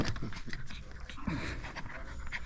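Puppies pant rapidly and heavily close by, quick breathy rhythm with a faint whimper, under a little background noise.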